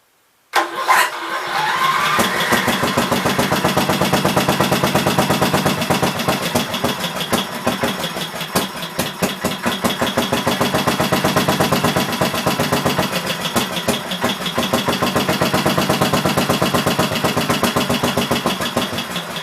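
A 16 hp cast iron Briggs engine cranks, catches and keeps running, a loud close rapid putter that settles into steady chugging with slight surges in speed.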